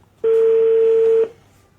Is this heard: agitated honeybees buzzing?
no